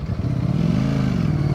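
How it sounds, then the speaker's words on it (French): Ducati Streetfighter V4S sport motorcycle, a modern 2020 208 hp model, with its engine revving loud and close, a steady throaty drone with rising pitch and no talk over it. "Je crois que c'est la moto moderne de 2020 qui fait le plus de bruit"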